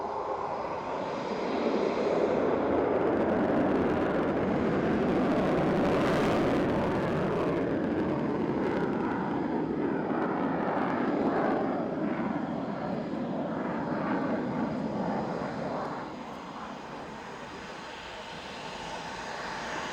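A Ukrainian Air Force Su-27 Flanker jet fighter takes off at an airshow, its engines producing a loud, sustained, rumbling roar that swells and then eases slightly as it climbs away.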